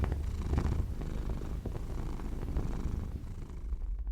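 A cat purrs steadily and close, a soft continuous rumbling drone with gentle rhythmic pulses that runs unbroken for about four seconds with no voices.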